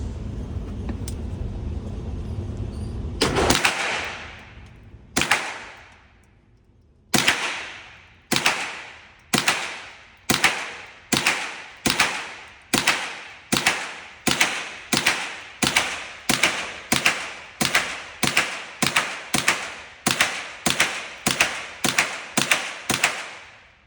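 A .22LR bolt-action rifle shooting mini mags and Blazer rounds, a long run of about twenty sharp cracks at a fast, fairly even rhythm, each with a short decaying tail, after a stretch of steady noise.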